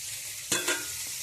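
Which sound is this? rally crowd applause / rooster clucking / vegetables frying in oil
vegetables frying in oil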